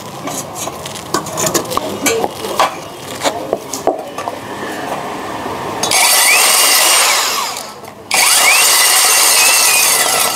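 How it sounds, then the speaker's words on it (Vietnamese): A core drill in normal, non-hammer mode bores into brick, a steady loud grinding whine that starts after some scraping and knocking, briefly cuts out, then resumes at full strength. "Mọi người lưu ý là rút lõi là để chế độ khoan thường nhé, không để búa đâu."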